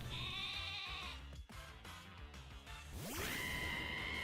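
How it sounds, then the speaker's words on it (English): A sheep bleats in a Pokémon video game, sounding as a pitched, wavering cry with harmonics, first at the start and again near the end, over a busy layer of game music and effects. "I heard that sheep noise."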